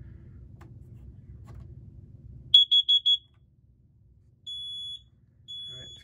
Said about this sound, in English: we'll test this carbon monoxide detector here